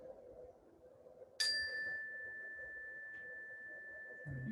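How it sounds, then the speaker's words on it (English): A single meditation bell is struck once, ringing out as a clear, sustained pure tone that slowly fades in a quiet room, with a faint rustle near the end. "And I'll ring the bell once more."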